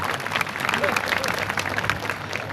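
A crowd at a two-day youth cultural festival in Mohla applauds, brisk clapping mixed with voices and crowd noise, loud and continuous through the short span.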